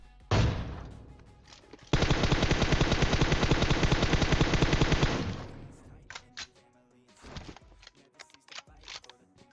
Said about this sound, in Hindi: उस बंदे को एक बॉडी शॉट पेलता हूँ